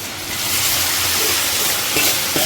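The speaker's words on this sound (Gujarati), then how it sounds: "વઘાર દેવા માંડ્યો" Spices tempering in hot oil for a Gujarati vaghar give a steady, close sizzling hiss with faint stirring scrapes, running continuously without speech.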